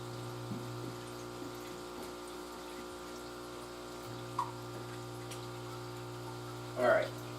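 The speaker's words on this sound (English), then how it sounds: "Now we have flowing water and wet ends." Water trickles and bubbles from an aquarium sponge filter driven by an air pump, a faint steady flow over a constant electrical hum, with a brief louder splash near the end.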